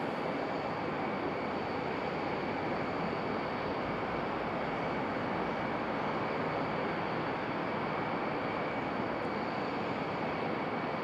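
A United Airbus A320-200 arriving from Denver at Raleigh-Durham makes a steady, broadband jet roar that holds evenly throughout, moderately loud and continuous with no talk over it.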